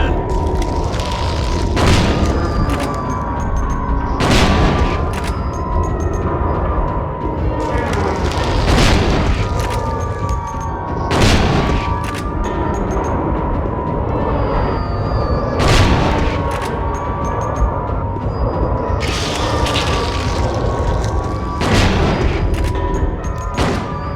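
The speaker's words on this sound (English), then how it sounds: "I'm shooting in the wrong direction." Repeated gunfire bursts from the Silent Hill 2 video game, loud sharp shots recurring every few seconds over a dense, rumbling game soundscape with a steady tonal hum.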